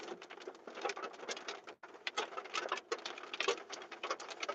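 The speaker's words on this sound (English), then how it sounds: "A little bit of rain." Light rain patters densely and unevenly on a surface during a severe storm near Muskogee, Oklahoma, a close, busy crackle with brief gaps.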